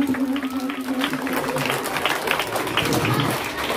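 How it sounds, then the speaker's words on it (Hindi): Children at a large award ceremony at Shantiniketan clap loudly, a dense, steady wash of applause filling the whole stretch with crowd murmur mixed in. "इस सफलता में जोरदार ताली बच्चे बजाते हैं।"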